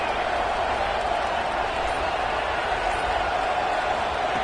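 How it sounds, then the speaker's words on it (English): A stadium crowd at a football game in Buffalo keeps up a dense, steady roar that fills the whole stretch without a break. "Listen to the crowd energy here in the early going."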